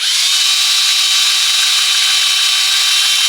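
A loud, steady high-pitched whine of a power tool running continuously at close range, with no pauses or voices.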